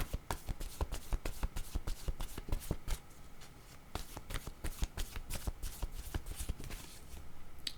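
Tarot cards shuffled by hand for a reading, a rapid, steady run of crisp riffling snaps and flutters, close and dry, with no voice over it.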